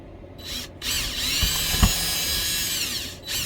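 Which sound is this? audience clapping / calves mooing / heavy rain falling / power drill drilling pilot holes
power drill drilling pilot holes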